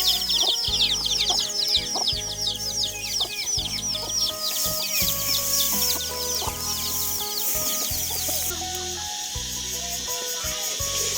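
Many chickens cluck continuously over a steady rhythmic background, busy and fairly loud throughout.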